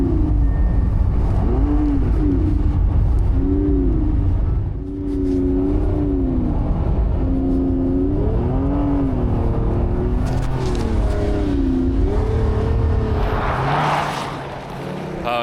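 A Lamborghini circling a skid pad on a frozen lake, its engine a loud continuous drone that rises and falls as it revs through the turns, close and steady for the whole stretch.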